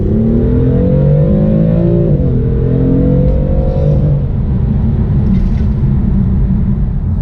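Engine of a BMW M4 F82 revving under load while driving, a loud, steady throaty drone whose pitch climbs, dips briefly and climbs again before settling into a rumbling cruise, heard from inside the car.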